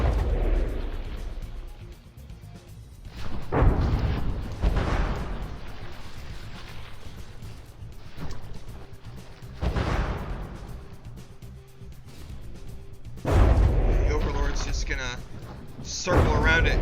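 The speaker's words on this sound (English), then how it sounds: "launch broadside barrages into the capital until it dies" Warship guns fire broadside barrages at a capital ship in the video game From the Depths, several heavy booms rising out of a low battle rumble at intervals while someone talks over them.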